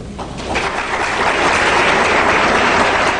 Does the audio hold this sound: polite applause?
yes